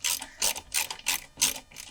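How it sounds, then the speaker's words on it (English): A hand ratchet clicks in quick repeated strokes, about five bursts, tightening two 10mm bolts while remounting an ECU on a 2021-or-later Can-Am Maverick X3 RR side-by-side, close up with no talking. "we will get these two 10mm bolts tightened back up into the side-by-side"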